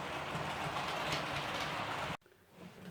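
Model train rolling along a home layout, a continuous rushing rumble with faint rail clatter that cuts off abruptly near the end, leaving a quiet room.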